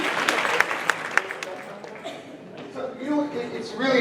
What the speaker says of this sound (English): let's give a round of applause to these models